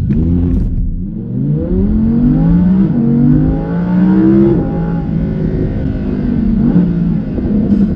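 An Audi R8 V10 Plus with 610 hp pulls away hard from traffic lights, its engine loud and close as the revs climb through several gear changes.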